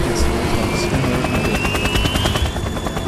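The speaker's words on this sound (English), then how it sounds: "Can you hear me with this helicopter?" Helicopter rotor chopping in Metal Gear Solid 2 gameplay, a loud continuous rhythmic thumping with a rising whine, mixed with bursts that may be gunfire.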